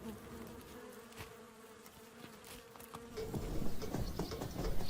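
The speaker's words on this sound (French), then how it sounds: "Les abeilles sauvages profitent souvent de la proximité des hommes." Wild bees buzz steadily nearby, a sustained droning hum with other insects flitting around, growing a little louder and busier toward the end.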